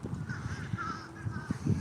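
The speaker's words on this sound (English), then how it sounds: "And there's the seagulls going." Seagulls call from a waterside lunch spot, a few faint, wavering cries drifting over steady outdoor background noise, fairly distant and brief.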